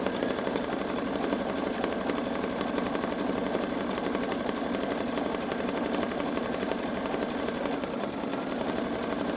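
A Babylock Solaris Vision embroidery machine stitching out a butterfly design, a steady, fast mechanical whirring and needle chatter running evenly and without pause at moderate distance.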